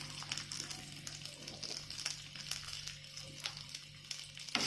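Small onions (shallots) with a pinch of salt fry in a pan for a Chettinad prawn kuzhambu, giving a soft, steady sizzling hiss with faint crackles, quiet and continuous over a low background hum.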